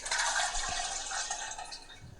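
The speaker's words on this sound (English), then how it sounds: "I'm filling up my water real quick." Tap water running steadily into a water bottle as it fills, a continuous rushing splash with no talk.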